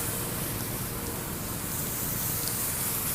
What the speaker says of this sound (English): sleet is coming down more heavy now